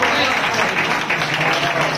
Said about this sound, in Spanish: Pues venga, un aplauso para Marce.